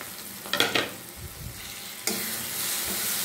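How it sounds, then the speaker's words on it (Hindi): Powdered turmeric, coriander and chilli with green chillies hitting hot oil with onion and tomato for whole moong dal, first a few loud stirring scrapes, then a sudden strong sizzle that holds steady to the end. "1 मिनट भूनेंगे मसालों को"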